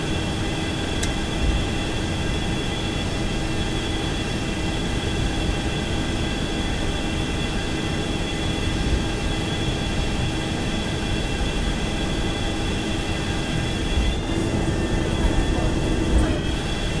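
Twin jet engines of a Boeing 737-200 in the X-Plane 11 simulator drone steadily while taxiing, a constant loud whine and rumble with faint clicks near the end.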